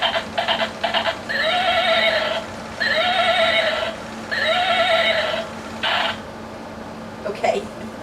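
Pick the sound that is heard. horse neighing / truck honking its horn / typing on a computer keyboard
horse neighing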